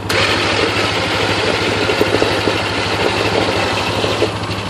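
Viper electric winch pulling rope onto its drum, a steady motor drone with a low hum that runs unbroken at close range and fairly loud, with no talking.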